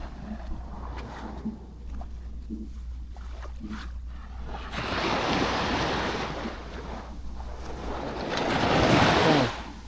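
Sea waves wash in on an Oman beach in the morning with a steady rushing surf that swells louder midway and again near the end, with wind noise buffeting the microphone.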